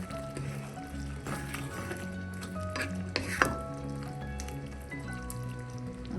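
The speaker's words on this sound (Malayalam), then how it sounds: "വീണ്ടും ഒന്ന് ഇളക്കി കൊടുക്കാം." Chicken liver curry simmering in a pan while being stirred, with a steady low sizzle and bubbling under repeated scraping strokes of a spoon and a couple of sharper taps against the pan.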